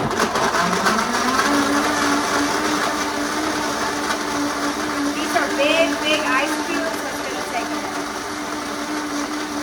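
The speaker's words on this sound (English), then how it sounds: "So now what we're gonna do is we're gonna blend this up. It's gonna get loud for a minute." A blender whirs loudly and continuously making an Orange Julius drink, its motor pitch climbing and settling as it grinds, with a few brief noises over it.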